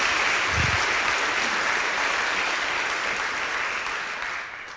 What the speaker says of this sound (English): So we can give everybody one more round of applause.